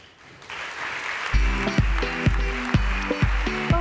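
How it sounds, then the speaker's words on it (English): Crowd applause for the director of the Tara Foundation at a ChangeNOW ocean conference session, a warm broad wash of clapping with a low rhythmic tonal pulse pounding underneath it. "Please give an incredible warm round of applause to the director of the Tara Foundation, Romain Troublé"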